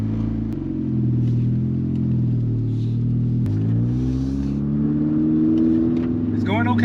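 A Honda CRX Si engine drones and rumbles steadily from inside the car while it drives around the block, with a gear shift audible partway through and a brief clatter near the end.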